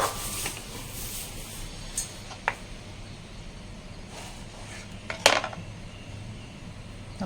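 Cut pieces of custard bread go into a bowl, heard as a few sparse clinks and light taps of cutlery and dishware against a quiet kitchen background, with one sharper knock near the end.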